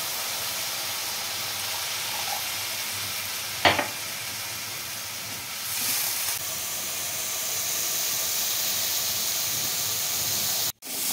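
Water poured into sizzling tamarind flower curry in a pan, producing a steady loud hiss and sizzle with one sharp clatter partway through, heard close up with no talking.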